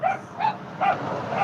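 Dogs bark in four evenly spaced, fairly loud yaps at a moderate distance, with no talking.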